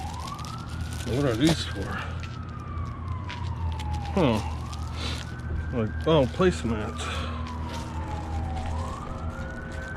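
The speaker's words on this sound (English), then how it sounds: "Wow, lots of sirens tonight," Emergency vehicle sirens at night wail in repeated rising and falling sweeps, moderately distant, while people chat nearby over the steady siren cycles.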